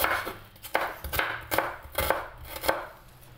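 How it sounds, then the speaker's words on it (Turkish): A knife chops onions into thin julienne strips on a cutting board, a series of sharp, evenly spaced thuds at a brisk steady rhythm, close and alone. "2 soğanımı da doğrayacağım."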